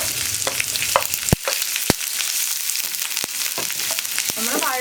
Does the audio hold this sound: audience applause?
no